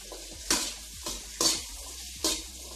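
Two green chillies sautéing in a pan for chilli chicken, a soft continuous sizzle broken by four sharp spatula stirs against the pan at roughly even intervals, close by with no talking.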